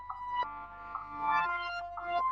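A reversed synth lead plays short, swelling tonal notes that bloom and cut off abruptly, repeating in a loose pattern over a low steady hum. It sounds quiet and has no accompaniment.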